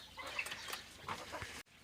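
Chickens clucking and a rooster calling on a small village farm with eight hens and two roosters, several close bird calls overlapping in a busy stretch before cutting off abruptly near the end.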